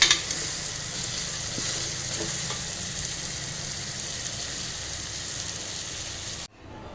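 Goat head meat and eggplant sizzle and fry steadily in a pan while being stirred, a dense continuous crackle close up that cuts off abruptly at the end.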